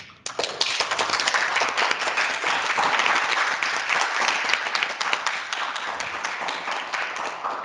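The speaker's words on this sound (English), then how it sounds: "Let's give them all a round of applause." An audience at a forum event breaks into applause, a dense, steady roar of many hands clapping that starts abruptly and carries on evenly throughout without voices.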